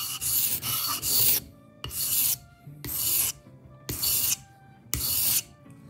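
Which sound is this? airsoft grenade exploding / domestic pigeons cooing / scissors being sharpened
scissors being sharpened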